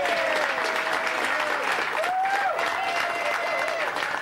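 Comedy club audience applauding and cheering, a dense steady clapping wash with some whoops rising over it, fairly loud and continuous throughout.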